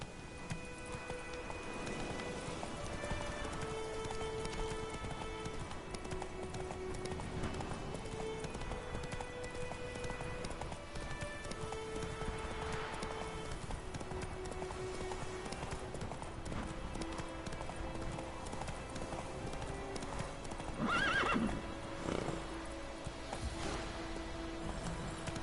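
Horse in The Witcher 3 video game galloping, a steady, rhythmic clip-clop of hooves under game music and ambience, with a brief neigh-like sound toward the end.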